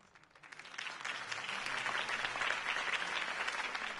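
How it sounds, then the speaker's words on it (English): A large crowd applauds after a campaign speech, the clapping swelling quickly from a few hands into a dense, sustained roar heard from a distance. "If only Mr. Wayne, my campaign's largest backer, could have heard that applause"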